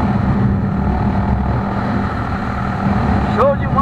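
A 1999 Honda Shadow 600 motorcycle being ridden gives a steady close engine drone, with a brief higher rev near the end.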